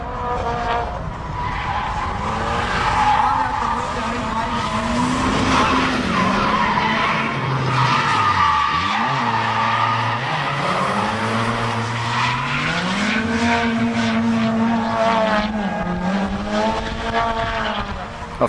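Drift cars at a Drift Nats round 1 competition skid with sustained tire squeal while their engines rev and waver, loud and close for the whole stretch, with some faint voices underneath.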